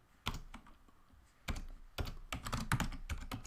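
Bursts of computer keyboard typing as a Linux command is entered, quick clustered keystrokes close up with short pauses between runs.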